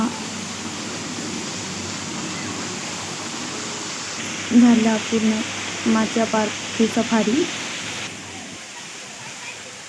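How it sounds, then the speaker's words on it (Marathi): A small decorative waterfall at Machiya Biological Park in Jodhpur sends out a steady rushing wash of falling water, with a person speaking briefly over it midway. "आणि हा छोटासा डेकोरेटिव्ह धबधबा टाईप बनवलं होतं."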